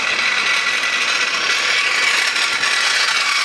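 A steady, loud power-tool whine with a gritty, rasping edge runs continuously throughout, close up and uninterrupted.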